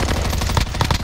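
Rapid automatic gunfire rattles in the online shooter game Rebirth, a loud close burst of evenly spaced shots that stays steady for about a second, with no talk over it.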